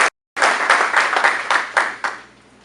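Applause at a US Army air defender graduation ceremony: a crowd in a hall claps loudly and continuously for about two seconds, then the clapping thins and fades.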